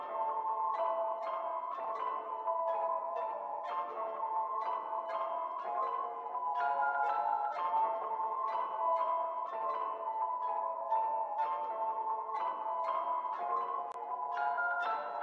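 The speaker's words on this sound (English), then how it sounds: "the first pattern with the bell is sounding like this" A bell-like sampled melody loops in a beat production, with bright, ringing notes in a repeating pattern and small filler notes between them. It sounds clean and steady with no vocals or talking.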